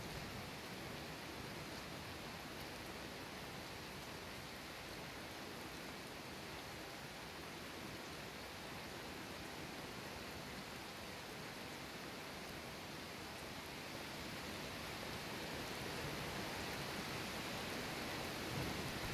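Rain pours in the Skyrim video game, a steady, even hiss that continues unbroken for nearly twenty seconds, with no talking over it.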